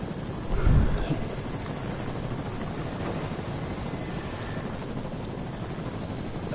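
A helicopter flies overhead, its steady broadband rotor and engine roar continuous and fairly loud throughout, with one brief thump near the start.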